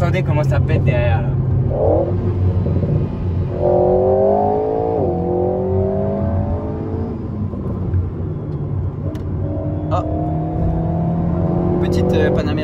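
A sports car accelerates with a steady, loud engine drone and a few sharp exhaust pops and crackles near the end; voices may be present over the engine.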